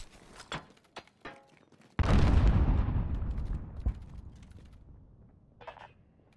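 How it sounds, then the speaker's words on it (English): A grenade blast in the Modern Warfare Beta video game: a loud, sudden boom with a long rumbling decay that trails off over several seconds, set among scattered game sounds and clicks. "Grenade out!"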